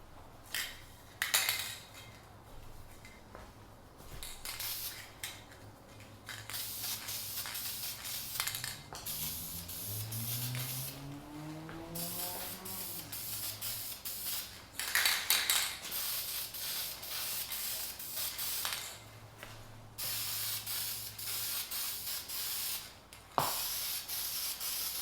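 A spray paint can puts a second coat on a World War II AGM 3927 military lantern, giving short hissing bursts mixed with scuffs and handling knocks, close and fairly quiet.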